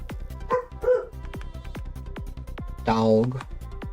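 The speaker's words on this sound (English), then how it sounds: "What the dog doing?" A dog indoors gives a few short, close barks and yips in separate bursts, over a steady run of light rhythmic clicking.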